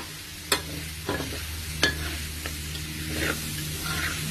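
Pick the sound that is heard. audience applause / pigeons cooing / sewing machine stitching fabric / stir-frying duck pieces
stir-frying duck pieces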